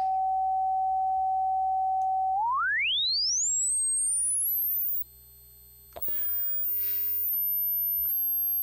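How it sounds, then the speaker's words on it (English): A pure test tone processed by the Airwindows Pafnuty plugin, a steady whistle that sweeps upward in pitch, with aliased tones bouncing back down, brief silence, then faint scraping clicks and lingering high sine tones. "It will make a high frequency noise"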